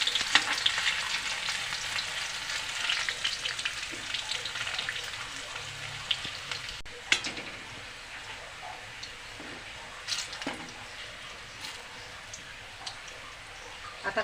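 Garlic and bay leaf sizzle in hot oil in a pan while preparing a traditional Kat Vada dish, a steady crackling fry with occasional stirring clicks and scrapes, close and moderately quiet.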